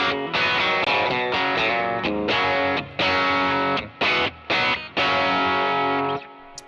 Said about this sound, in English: If I push it down, it does the humbucker thing.